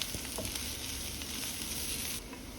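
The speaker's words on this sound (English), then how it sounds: "Saute the carrot until it gets tender." Carrots sauté in sesame oil in a pan, giving a continuous close sizzle with soft stirring scrapes, easing slightly near the end.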